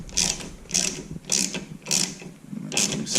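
A ratchet loosens the floorboard mount bolts on a Yamaha V Star 1300 motorcycle, giving five evenly spaced bursts of rapid close clicking with short pauses between strokes.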